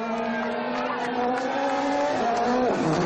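Sebastien Loeb's Citroën rally car accelerates hard on a slippery road stage, engine note climbing steadily through the gears and then dropping at a shift near the end, heard continuously at moderate distance with faint voice beneath.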